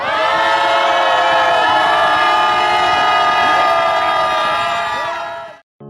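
Crowd cheering at a candlelight protest rally; a loud, sustained roar of many voices with whoops holds steady for several seconds, then cuts off abruptly.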